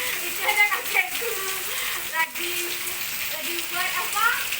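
Rain falls outdoors as children play in it, a steady broad patter and hiss from nearby with faint children's voices and brief chirpy calls over the downpour.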